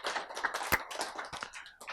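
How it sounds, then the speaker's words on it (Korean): Sparse, weak clapping from a lecture audience, a handful of uneven hand claps over about two seconds, close and fairly quiet. "박수가 약해."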